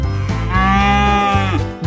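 Cows give a long, loud, drawn-out moo in a children's nursery-rhyme song, heard up close and steady for nearly two seconds.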